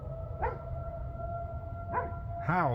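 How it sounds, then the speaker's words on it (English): A dog lets out a few short rising howls against a steady distant fire whistle tone and low background rumble. "Howl, puppy. Go ahead and howl."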